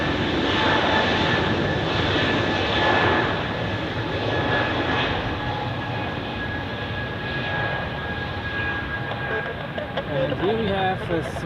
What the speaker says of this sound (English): And here we have a Swiss A340 pushing back.